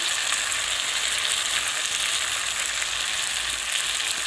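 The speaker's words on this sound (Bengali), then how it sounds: "এবার সব গুঁড়ো মশলা দিয়ে এটাকে আবার কিছুক্ষণ কষিয়ে নিতে হবে, যতক্ষণ না তেল ছেড়ে না দিচ্ছে মশলা থেকে" Spice powders of turmeric, salt and Kashmiri red chilli frying in oil for a rui fish curry, a loud, steady sizzle that holds without pause close up.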